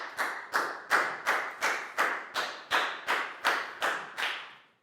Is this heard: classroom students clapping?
yes